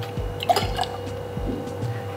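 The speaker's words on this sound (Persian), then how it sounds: "آب سیب اضافه میکنیم." Apple juice poured into the large tin of a cocktail shaker already holding ice, giving a short, faint liquid splash and trickle with a few soft drips, close by and without talk.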